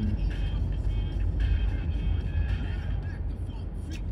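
Car engine droning steadily in a driving simulator video game, a continuous low rumble of driving with no talk over it.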